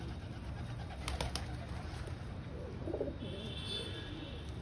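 Pigeons mill about on a rooftop, giving soft, low coos against steady background noise, with a brief burst of louder sound near the start and no one talking.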